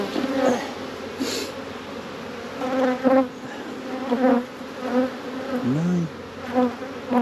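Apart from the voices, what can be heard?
honeybees buzzing around an opened hive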